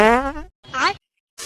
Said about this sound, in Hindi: जब मैं पादत हूँ ना तो बहुत तेज आवाज आवत थी